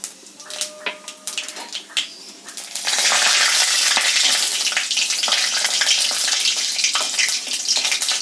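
Dried red chillies and whole cumin dropped into hot oil for a chana dal tempering: a few light taps and clicks, then a sudden loud, dense sizzle that crackles on steadily up close.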